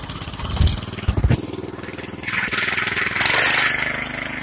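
Carver MT-700 walk-behind tractor engine chugging steadily while driving through muddy off-road ground carrying firewood, a mid-pitched close running note with a few louder thumps early on and rising, revving surges later.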